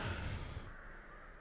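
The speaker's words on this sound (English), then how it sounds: "And the crows were always looming overhead." Crows caw in the Skyrim video game, a single harsh call fading out over a low ambient wash with no voices.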